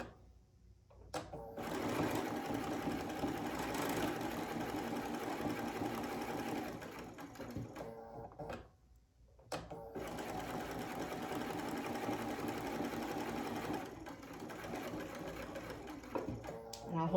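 A sewing machine stitching a quilt block with a clear presser foot runs in two long steady whirring bursts, close and moderately loud, broken by a pause with brief pivoting clicks, while a voice talks over it.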